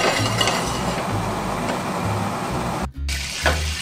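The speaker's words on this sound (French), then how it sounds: "Je commence par faire fondre mon beurre dans ma casserole." Butter melting in a saucepan at the start of a roux for béchamel sauce gives a steady, soft, broadband sizzle and hiss that runs close and continuous, with a brief dropout near the end.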